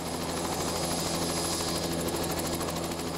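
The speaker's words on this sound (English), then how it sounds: "Our helicopter hovered briefly above the 100-foot-high Lewitt Falls" A helicopter hovers and sets down on the north end of the Mount St. Helens crater. Its steady, loud rotor thrum and engine whine run throughout with no pauses.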